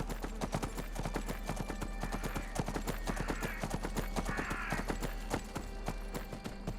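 Horse hooves clip-clop in a fast, even rhythm while riding across open ground in a fantasy video game, the steps loud and close with no talk over them.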